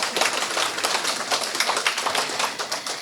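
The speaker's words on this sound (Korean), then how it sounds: "여러분 다시 한번 박수 부탁드리겠습니다" Audience applause at a policy forum on social services: a dense, steady patter of many hands clapping, fairly close and sustained throughout with no talk.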